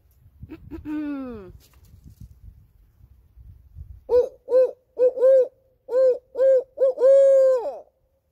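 A person's voice imitates a barred owl's 'who cooks for you' call. After a brief vocal sound, a loud, close run of about eight rhythmic hoots follows, ending in a drawn-out final hoot.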